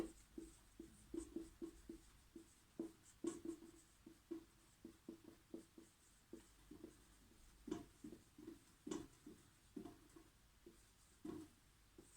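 Handwriting during a literature lecture: continuous scratchy pen strokes in quick, uneven bursts with short pauses between words, close and fairly quiet, with no talking.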